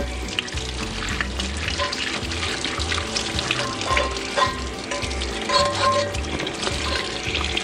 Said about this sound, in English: And we're going to rinse with hot water.